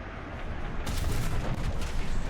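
A tank cannon fires during a War Thunder tank battle against a Chieftain Mk.3, a single loud, close boom that breaks out of low engine rumble and rolls off in a long, heavy blast.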